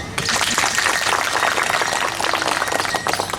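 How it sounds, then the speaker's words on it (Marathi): Crowd applause at a community event in Dhantoli Garden, Nagpur, with many hands clapping in a loud, continuous rush that holds evenly for several seconds. "त्यांच्यासाठी पण एकदा टाळ्या"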